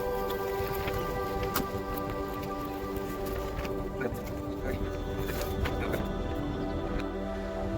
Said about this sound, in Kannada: ಮಳೆ ಬಂದ್ಬಿಡ್ತು ಮಳೆ ನೋಡಿ ನೋಡ್ತಿದ್ದಂಗೆ ಮಳೆ ಸ್ಟಾರ್ಟ್ ಆಗೋಯ್ತು ಈಗ